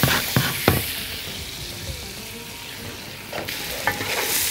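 Onions frying in a pan while being stirred, a soft continuous sizzle with a few sharp scrapes and knocks of the utensil near the start and end, close up and alone.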